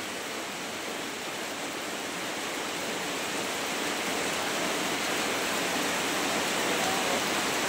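Steady rain falls outdoors where farm animals are being fed. It makes a dense, even hiss that grows slightly louder, and no voices break the continuous wash.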